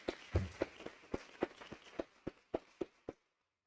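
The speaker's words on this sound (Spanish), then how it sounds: "Un aplauso general" An audience at a training course gives faint, sparse applause: a dozen or so evenly spaced claps that soon stop, leaving silence.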